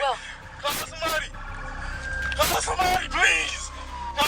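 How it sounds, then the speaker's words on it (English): A wailing siren, likely an ambulance, cuts in and out with rising and falling sweeps at moderate distance, heard under agitated shouting and talk from several people during a police encounter. "Do you hear them? Ambulance is coming."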